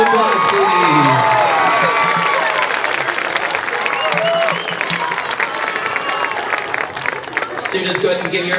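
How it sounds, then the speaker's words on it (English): Audience at a parent performance of a school marching band clapping and cheering, with whoops and children's shouts rising over steady applause, voices calling out across the crowd. "Give them a big round of applause, please."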